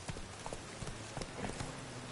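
Roach, a horse in The Witcher 3, trotting in rainy weather with a quick, irregular run of soft clip-clop hoofbeats over a faint noisy background.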